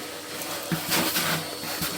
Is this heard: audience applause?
no